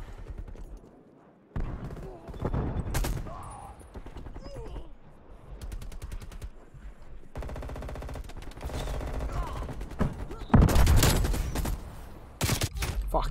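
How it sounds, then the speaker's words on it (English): Rapid gunfire and a frag grenade blast in the Black Ops Cold War Nuketown map, with loud bursts of automatic fire and sharp explosive hits coming in clusters, including a heavy boom near the end. "Throwing frag grenade."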